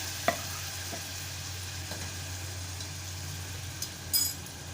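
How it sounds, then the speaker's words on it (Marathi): Peas with Malvani masala and ground paste stirred in a pan, a steady low sizzle with a few faint scrapes of the spoon, quiet and close, no voices. "आणि मटार घालत आहे मिश्रण छान एकजीव करून घेत आहे"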